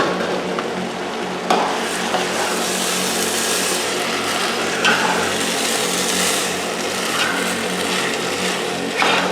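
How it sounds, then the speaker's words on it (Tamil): Soaked rice and half-cooked chicken for chicken biryani sizzle and scrape in a hot pot as they are stirred, a continuous close frying hiss with periodic louder scraping strokes and no voices. "அரிசியை ஒரு திருப்பி நல்லா வதக்கிக்க போகிறோம் கூடவே."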